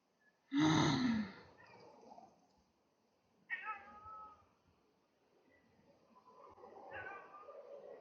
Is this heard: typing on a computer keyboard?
no